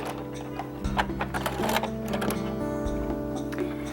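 A sewing machine runs in short mechanical bursts while back stitching the seam of a bag, its motor whirring and clattering close by with brief stops and restarts.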